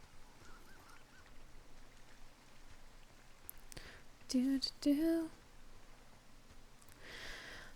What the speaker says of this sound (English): Sound of the ducks is really cute.